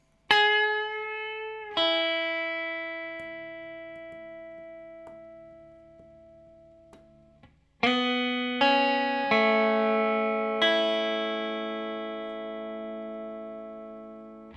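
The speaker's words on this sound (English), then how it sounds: "there's like a sort of a lead line that uses a little bit of overdrive or distortion" A few sustained electric guitar notes from the lead line of a song ring out with a gritty, slightly overdriven tone, each plucked note decaying slowly before the next.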